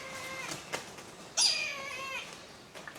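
Brahminy kite at a zoo giving a drawn-out, slightly wavering mewing call near the middle, preceded by fainter, shorter calls and set against quiet background noise.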